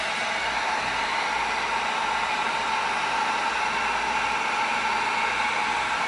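A hot air tool blows steadily on EVA foam to seal it, a loud, constant close-up whooshing roar with no breaks and no voices.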